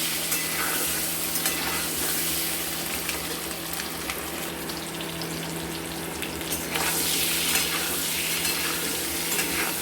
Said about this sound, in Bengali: দিয়ে আঁচটা বাড়িয়ে দিলাম, দিয়ে এবার ডিমগুলোকে সুন্দর করে ভেজে নেব।